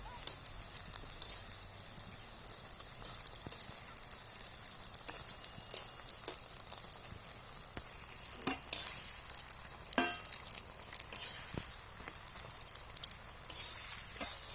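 Ridge gourd (gosavale) bhaji fritters frying in hot oil over a fairly high flame, giving a steady close crackling sizzle with scattered sharp pops and spits throughout, no voices.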